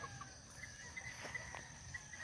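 Gamefowl chickens cluck and call repeatedly in short bursts at a gamefowl festival, over a busy background hum and distant noise.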